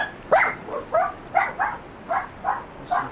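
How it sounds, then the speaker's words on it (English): A pet dog named Astrid barks in a string of about seven short, evenly spaced barks, some with a whiny yip quality, heard fairly close with no talking. "Listen to my dog bark at nothing"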